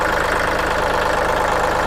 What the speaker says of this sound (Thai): ดูเครื่องยนต์นะครับ เครื่องไม่มีไอนะครับ